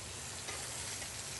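Steady, crackling sizzle of vegetables frying in a hot pan, continuous and close, with no voices.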